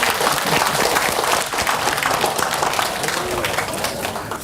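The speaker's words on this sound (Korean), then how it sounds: "마지막 강의 오상훈 교수님을 모시고 큰 박수로 환영해 주시기 바랍니다" An audience at a Buddhist graduate school alumni summer seminar applauds warmly to welcome a lecturer, with dense, steady clapping throughout that fades slightly toward the end.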